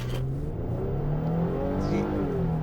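A 2022 Nissan Frontier SV pickup truck launches from a standstill, its engine note rising steadily and loudly as it accelerates, heard close and alone without talk.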